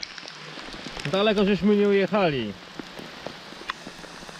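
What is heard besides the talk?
rain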